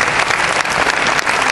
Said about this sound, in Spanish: Pido otro aplauso